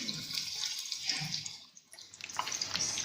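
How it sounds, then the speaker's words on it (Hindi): Potato donuts sizzle and hiss steadily in hot oil as they are dropped in one by one for frying, with a broad continuous crackle and a few soft splashes. "अब हम एक एक डोनट को उठाएंगे और ऑयल में फ्राई होने के लिए डालते जाएंगे"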